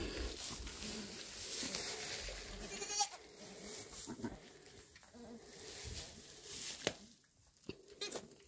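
Sheep bleating during lambing while a breech birth is assisted, with repeated close, loud bleats over continuous barn noise and some faint human voice.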